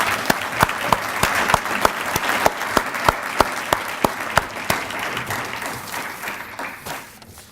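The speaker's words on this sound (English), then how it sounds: "Let's hear another round of applause." A hall of fame ceremony audience at Windsor High School gives a full round of applause, dense clapping close by with one person's loud, evenly spaced claps punching through before the sound tapers off.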